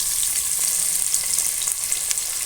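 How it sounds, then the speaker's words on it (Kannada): Curry leaves sizzling in hot oil in a pan while cooking a palak paneer pulao, a steady, dense crackle that stays loud and close throughout, with no voices. "ಇದು ಸ್ವಲ್ಪ ಚೆನ್ನಾಗಿ ಫ್ರೈ ಆಗಬೇಕು."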